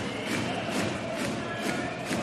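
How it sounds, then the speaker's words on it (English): Drums beat a steady pounding rhythm inside a packed volleyball arena during a Modena match, the thumps repeating under a constant roar of crowd noise. "The drums are beating."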